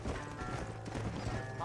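Horse hooves clip-clopping in Red Dead Redemption, a quiet, steady patter of hoofbeats under faint game ambience.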